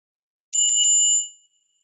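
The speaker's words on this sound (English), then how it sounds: "I just have a bell here" A small hand bell is struck once to open a meditation, a bright ring with a quick flutter at the start that sustains briefly and fades out cleanly into silence.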